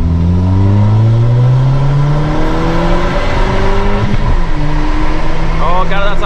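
A VW Golf Mark 6 and Mark 7 accelerate hard in a race, engines revving and climbing through the gears with rising drones, loud and close, with a voice speaking over the engine noise.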